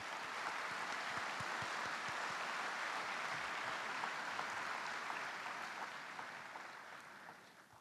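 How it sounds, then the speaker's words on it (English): Sustained audience applause at the opening ceremony of the African Development Bank 2018 annual meeting, honoring Busan's Vice Mayor; dense, steady clapping from a large hall crowd that gradually tapers near the end. "Can you please give him a hand of applause?"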